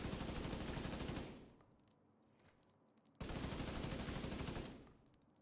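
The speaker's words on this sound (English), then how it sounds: "I think I might have found a new assault rifle. Military G36." A Military G36 assault rifle in Division 2 fires two sustained full-auto bursts, each a dense, rapid stream of close, loud shots with a ringing fade, separated by a brief lull.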